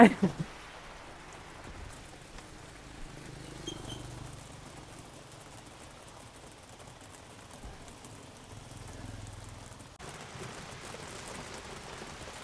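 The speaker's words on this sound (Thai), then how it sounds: "ฝนนี่คือตกหนักมากนะครับตอนนี้นะ" Heavy rain pours down at a street food spot in Cambodia, a steady, fairly soft hiss of drops that continues evenly throughout after a brief knock at the start.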